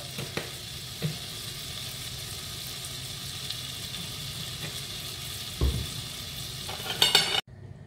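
Butter with a drop of oil sizzles steadily in a pan, a constant close frying hiss with a few soft clicks and knocks, with no talk.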